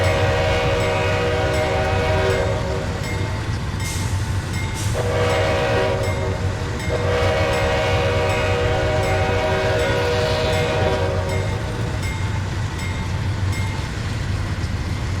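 A simulated CN/IC freight locomotive leading a grain train on Marias Pass in Train Simulator 2019 sounds its horn in the crossing pattern, with long, loud, sustained blasts and brief gaps over a constant rumbling engine drone.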